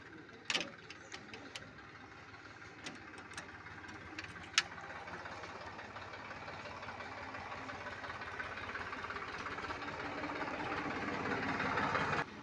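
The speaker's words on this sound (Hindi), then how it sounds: "अभी ट्रैक्टर की आपको स्टार्टिंग दिखवाएंगे" A 2010 Massey Ferguson 241 DI tractor diesel engine cranks and starts with a few sharp knocks, then settles into a steady, rattling idle that grows slightly louder, heard from nearby with no talking.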